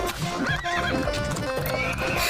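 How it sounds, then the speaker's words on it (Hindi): In an animated story, a cart horse gives a loud, wavering whinny while its hooves clip-clop steadily as it pulls the cart, all close and continuous. "गेंदा और सेठानी फलों की टोकरियां और खाने के पतीलों को घोड़ा गाड़ी में लेकर निकल पड़े।"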